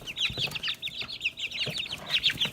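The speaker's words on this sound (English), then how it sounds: "Good morning, baby chickies." Baby chicks in a coop give a rapid, continuous stream of high, thin peeps and soft clucks, close and busy throughout.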